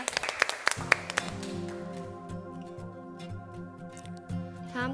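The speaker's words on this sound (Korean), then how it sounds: "우리 하나님께 영광의 박수 올려드립니다." A church congregation at a Sunday service gives a short burst of clapping at the start, then fades into sustained organ or keyboard chords that carry on alone.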